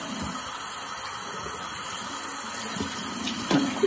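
Water runs steadily from a bathroom tap while a face is wetted during a skin-care routine, giving a constant close hiss with a couple of small splashes and clinks near the end.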